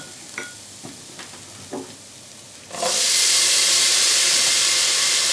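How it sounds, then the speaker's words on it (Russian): Potatoes tipped into onion and carrot already frying in a multicooker on the fry setting, giving a few light taps and clunks, then a sudden loud, steady sizzling hiss that carries on alone to the end. "Сейчас мы сюда отправляем картофель."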